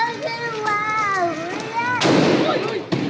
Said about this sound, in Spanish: y tirando cohetes